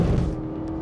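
Chevrolet Camaro ZL1 with 659 hp lapping a race circuit, a steady, loud low engine drone holding one pitch for under a second, close and alone.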